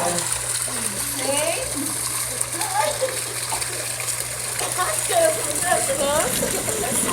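Water in a backyard swimming pool swirling and splashing steadily as people stir it into small waves, a continuous close wash of sloshing with children and adults talking over it.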